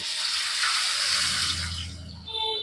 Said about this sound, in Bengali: এবার ওই মিক্সির বাটি ধোয়া জল একটু দিয়ে দেওয়া হলো।